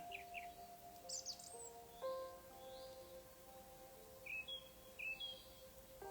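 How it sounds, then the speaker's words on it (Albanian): Sparse, faint bird chirps and short tweets sound at scattered moments, with a soft sustained tone humming steadily underneath in a quiet setting. "Po dëgjon cicerimat e zogjve."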